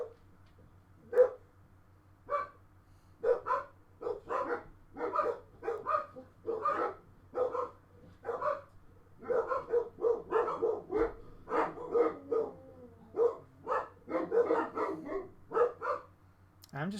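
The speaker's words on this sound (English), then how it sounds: "And the puppies are going crazy again." Dogs bark in a zombie survival video game: repeated sharp barks in irregular bursts across the whole stretch, fairly loud and close, with a low steady hum underneath.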